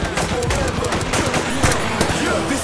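Rapid gunfire from a firearm in an action war movie, a dense, loud burst of overlapping shots crackling continuously through the stretch with no pause.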